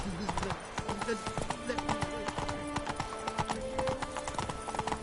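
Roach the horse gallops in The Witcher 3 on PS4, with rapid, even hoofbeats pounding close and loud throughout, a short whinny-like tone near the start, and game music tones threaded underneath.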